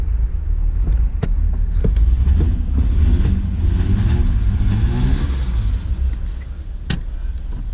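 A cammed Nissan Skyline engine idles roughly and revs up and down with a lumpy, uneven rumble, close and loud, with a few sharp clicks.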